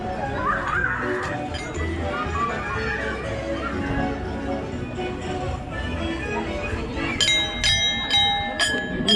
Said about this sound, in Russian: Можно также позвонить вот в колокола.